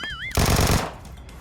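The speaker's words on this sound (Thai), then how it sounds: "เสียงปืนเนี่ยเยอะมากเลยขนาดลงรอบนอกยังเยอะเลย" Burst of rapid automatic gunfire from PUBG Mobile, loud and dense for about half a second after a short rising electronic tone, then trailing off into faint game ambience.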